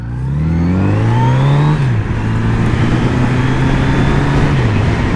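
A Triumph Rocket 3 motorcycle rumbles past on the road, a loud, steady engine drone that swells, shifts pitch briefly and carries on close by.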